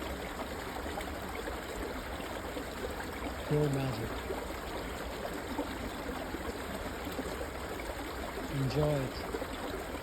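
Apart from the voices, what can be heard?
stream of melting snow water trickling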